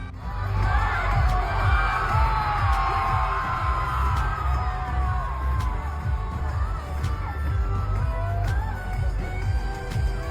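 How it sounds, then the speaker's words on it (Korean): Fans cheer and yell at a concert at Lollapalooza, a broad crowd roar carried over heavy, thumping bass from the stage music and lasting the whole time. "팬들의 함성으로 공연이"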